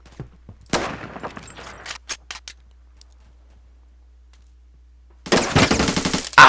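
Gunfire in the Roblox shooter Phantom Forces: a few scattered shots early on, then a dense, loud burst of rapid automatic fire near the end, with no talking.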